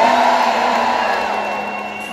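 Arena crowd at a concert at Mohegan Sun Arena cheers and whoops in a loud, steady roar that fades slightly toward the end, with a sustained tone running underneath.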